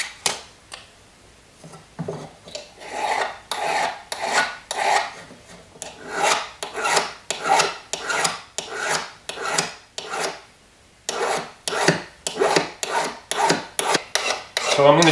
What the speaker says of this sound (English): And then go continue your filing. That might require a different file,